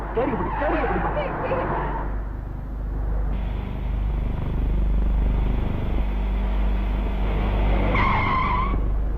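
A car with a punctured tyre skids to a stop, a loud screeching tyre squeal over the first two seconds, followed by engine rumble and further squealing near the end, with people talking throughout.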